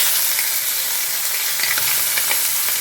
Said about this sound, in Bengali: মাছের মাথাটা ভাজা হোক।